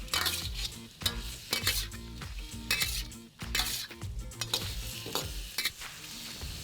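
Shrimp and spicy sauce being stir-fried for ma po tofu, a sizzling pan under a busy rhythm of spatula scrapes and metallic clanks against the wok, close and fairly loud, with no voices.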